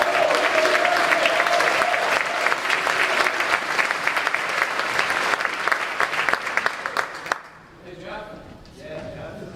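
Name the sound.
audience applause at a scholarship ceremony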